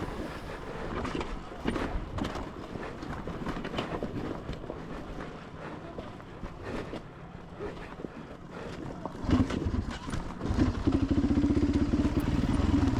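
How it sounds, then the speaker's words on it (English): A hard enduro motorcycle at a King of the Motos race rolls downhill with its engine off, giving a steady rumbling, rattling rush with wind noise and clatter, swelling louder near the end. "Let the bike roll, little engine off action right there, using that clutch lever as a rear brake."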